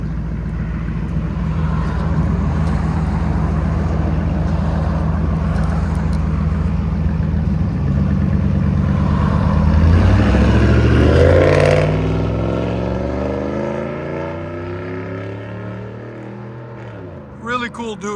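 A 2007 RAM 1500 pickup with a 4.7L V8 and straight pipes with tucked and dumped tips idles with a loud, rumbling exhaust, then revs up and falls away before a brief blip at the end.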